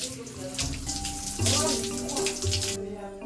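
Shower water runs steadily in a jungle village, a close, continuous hiss and splash with faint background tones.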